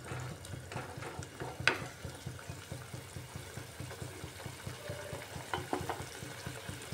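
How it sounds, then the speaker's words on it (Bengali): Lentils and potatoes simmer in a pot, a soft, continuous bubbling with regular low pulses and an occasional brief clink, heard close and fairly quietly. "ফুটে উঠছে ডাল আর আলু"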